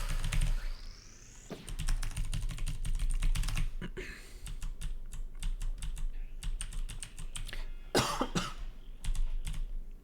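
A person coughs a few times amid rapid, continuous computer keyboard typing, close to the microphone, with a burst of clacking keys near the end and no talking.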